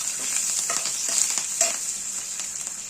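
Chopped green chillies and a handful of curry leaves crackle and sizzle in hot oil, with bright spattering pops over a continuous hiss and occasional stirring scrapes, close and fairly loud without any talk.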